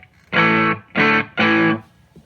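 A Varmint distortion pedal on electric guitar, a dirty Rat-style fuzz, plays three strong, sustained distorted chords in a row, each ringing briefly and then cut off, with short gaps between.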